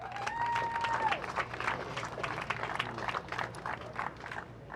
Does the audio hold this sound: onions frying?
no